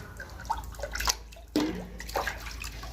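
Sesame seeds being washed in water by hand, with soft sloshing, drips and splashes in small irregular bursts, quiet and close.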